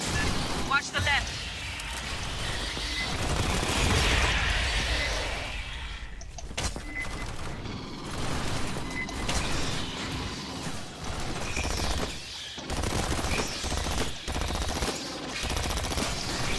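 Sentry guns in the sci-fi shooter game Aliens: Fireteam unleash sustained rapid automatic fire mixed with bursts and explosions, loud and dense, while players talk over the gunfire.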